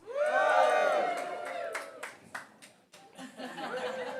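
An open mic poetry night audience cheers and whoops loudly at once, a burst of crowd noise and shouts that fades over a couple of seconds into scattered claps, laughter and chatter.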